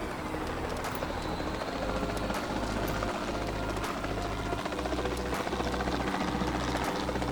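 Helicopter in the video game Jurassic World Evolution 2, a loud, steady rotor thump with a rhythmic low pulse and whining engine tone, continuous and close throughout.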